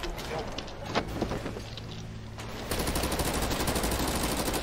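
Gunfire rattles in a Brazilian GTA roleplay game, with scattered shots early on and a denser, steady volley in the second half, mixed with background game noise.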